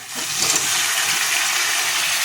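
Water rushes and splashes into a pan of spiced potatoes, a loud steady hissing pour close by with no voices.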